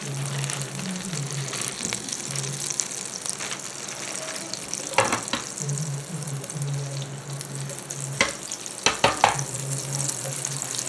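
Teriyaki glaze for salmon swirls in a hot pan with a steady, close sizzle, broken by a few sharp clinks of the pan or utensil near the end.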